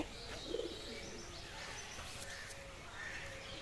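An Undha Fulshira pigeon coos softly once near the start, faint against a steady background hiss with occasional distant chirps.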